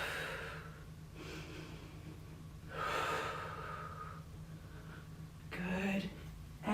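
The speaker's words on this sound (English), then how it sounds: "One more deep breath." Deep, audible breaths come in slow waves during a chair yoga class, close and soft, with an instructor's voice guiding the practice.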